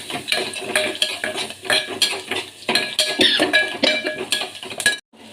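A metal spoon stirs curry leaves and a pinch of turmeric into a mix for buttermilk rasam in a pan, with rapid, close scraping and clinking of metal against metal that continues steadily and then stops abruptly.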